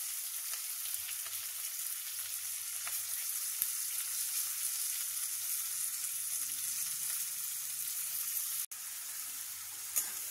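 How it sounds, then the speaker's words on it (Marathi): Onion sautéing in hot oil with mustard seeds and curry leaves for sweet corn rice, a steady, fine sizzle with occasional soft stirring, fairly quiet and close, with no voices. "यात आता कांदा घालून छान परतून घ्यायचा आहे कांदा"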